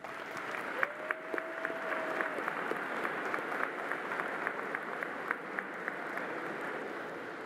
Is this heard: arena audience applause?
yes